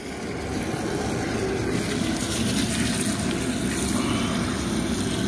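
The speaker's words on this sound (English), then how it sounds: "then we're gonna dump this bucket into that bucket. It's got holes in it. Drain them." Water pours and splashes steadily as a bucket of live spillway crawfish is dumped into a second bucket with holes to drain, a continuous close rush of liquid lasting throughout, with no talking, at a Louisiana crawfish boil.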